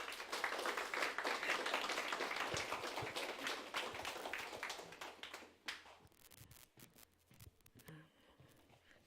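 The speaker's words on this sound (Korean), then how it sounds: "박수로 환영해 주시기 바랍니다." Audience clapping to welcome a lecturer arriving for a health talk at a church gathering, a steady dense patter that runs for several seconds, then thins into scattered claps and footsteps before fading.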